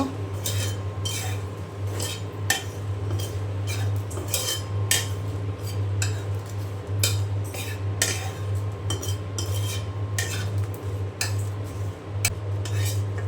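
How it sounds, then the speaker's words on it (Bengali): Dried red chillies fried and stirred in a pan for a mash, with repeated scraping and clinking of a utensil against cookware over a steady low hum, close and fairly loud throughout. "আমি এখানে শুকনা মরিচ ভেজে নিচ্ছি ভর্তার জন্য।"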